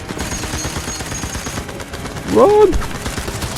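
Heavy gunfire with many bullets flying, a dense, continuous rattle of shots throughout while a voice shouts over the barrage.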